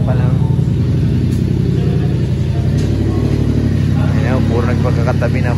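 Several big bike motorcycle engines run and rev nearby, a heavy, loud rumble that swells and changes pitch, with people talking over the noise.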